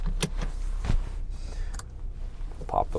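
Power-folding side mirrors on a 2020 Audi Q7 whir briefly outdoors, a short motor hum mixed with faint clicks, with light background noise and a voice nearby.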